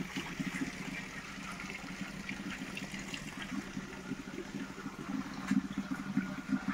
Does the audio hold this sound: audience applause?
no